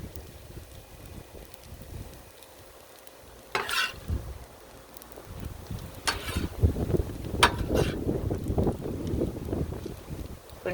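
Gusty wind buffets the microphone outdoors beside a Blackstone griddle, rumbling low and rising in uneven bursts, mixed with faint sizzling and scraping from shrimp scampi cooking, with no talk.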